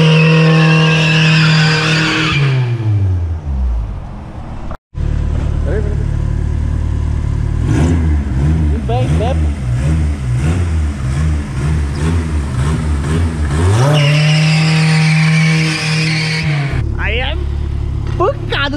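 A 2001 Chevrolet Celta fitted with FuelTech, an Agile gearbox and Vectra mechanicals accelerates hard on a drive, its engine climbing through gear changes in loud, close pulls, with speech over the engine noise.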